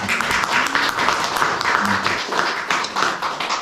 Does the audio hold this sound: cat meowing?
no